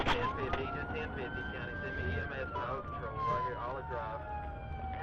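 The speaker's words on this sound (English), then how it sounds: "The blaring sirens filled the air" A police car siren wails with long rising and falling sweeps, loud and close, while people talk over it and traffic rumbles underneath.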